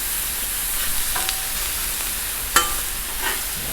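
Steak and chicken sizzle on a 36-inch Blackstone griddle, a steady close hiss broken by a couple of sharp spatula clicks and scrapes against the flat top, with no voices.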